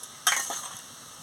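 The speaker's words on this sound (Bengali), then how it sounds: "দিয়ে ভালো করে নাড়িয়ে নিচ্ছি" A single scrape of stirring prawns and taro in a hot pan with oil, a sharp clatter followed by a brief sizzle that fades within half a second.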